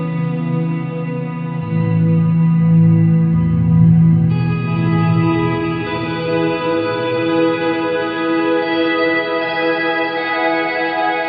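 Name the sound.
guitar effect from Quad Cortex, reverb into tremolo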